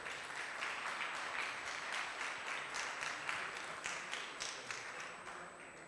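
Steady applause from an audience at an evening awards ceremony for a Serbian car-of-the-year trophy, dense overlapping clapping sustained at an even level throughout with no voices.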